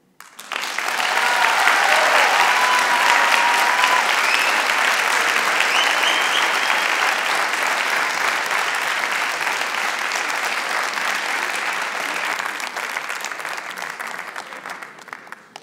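An audience at a business evening event in Lille breaks into sustained applause. The clapping is dense and steady, holds at full strength for most of the stretch, then thins out toward the end.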